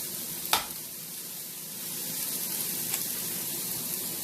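Eggs and garden vegetables with tomatoes cooking in a frying pan give a steady, quiet sizzle, with a sharp crack-like click early on and a softer tick later.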